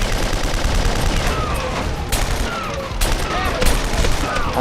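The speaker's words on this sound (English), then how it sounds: "the rotary cannon." A rotary cannon fires in the True Crime video game, a loud, continuous rattle of rapid shots punctuated by sharper cracking bursts over a dense background of noise.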